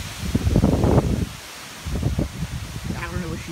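Gusty wind buffets the microphone in low rumbling bursts, easing briefly midway, with a faint voice near the end.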